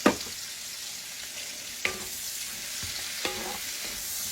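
Zucchini, mushrooms and onion sautéing in a pan give a steady, close sizzle with a few sharp clicks of stirring. No one speaks.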